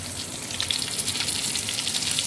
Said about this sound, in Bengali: মাছগুলো ভাজছি